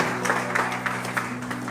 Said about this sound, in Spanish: Regálenle una ofrenda de palmas al Señor